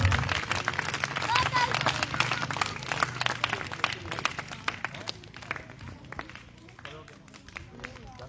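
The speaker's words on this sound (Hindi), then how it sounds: "बच्चे लोग तालियों से स्वागत करेंगे।" Children applauding a welcome at a prize distribution event, a burst of dense hand clapping with crowd murmur and voices, loud at first and thinning toward the end.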